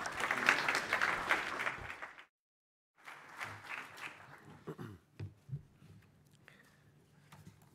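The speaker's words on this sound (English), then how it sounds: "A round of applause, please." Applause greets the Speaker of the Croatian Parliament at a forum in Dubrovnik, a moderate burst of clapping that breaks off into silence, then a thinner, fading patter returns with some low rumbles and movement.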